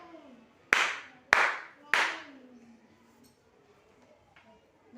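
During a classroom counting game, a teacher claps three sharp, loud hand claps at a steady pace. A faint murmur follows in a quiet room.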